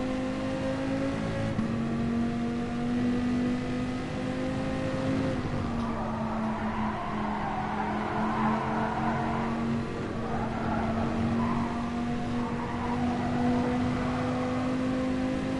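A Dodge Viper engine in Gran Turismo Sport drones steadily at a sustained pitch, then sags to a lower tone as the RPM drops and stays down, with no voices.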